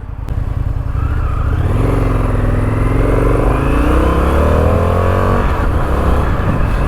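Indian FTR 1200S motorcycle engine revving loud and close, a steady throbbing idle rising into a sustained climbing rev that holds and then drops back, with no talking over it.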